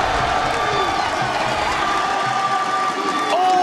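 Esports arena crowd cheering and rising during a Rainbow Six Siege playoff match, a dense, sustained roar of many voices with whoops, under a caster's commentary.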